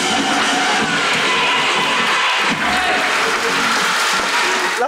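Sustained audience applause with scattered cheers fills the whole stretch, loud and dense, a crowd clapping continuously at a comedy show.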